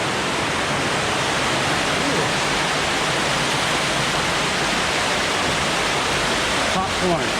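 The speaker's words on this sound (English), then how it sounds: "Waterfall, huh?" A creek waterfall pours in a constant, dense rush of water, close and loud, unchanging from start to finish.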